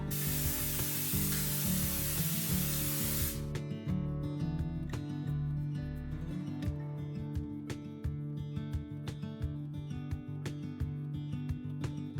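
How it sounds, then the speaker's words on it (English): Cooking spray hissing onto a muffin tray, one continuous loud burst of about three seconds at the start, followed by soft clatter and tapping over a steady background of music. "I'm going to spray my muffin tray with cooking spray"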